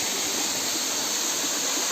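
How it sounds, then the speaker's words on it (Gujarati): A waterfall spills down from the Barda hills near a hillside temple, giving a steady, unbroken roaring hiss that stays even and close throughout. "પાણી ઉપરથી બરડા ડુંગર ઉપરથી પડે છે."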